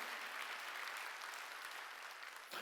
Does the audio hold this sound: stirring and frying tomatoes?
no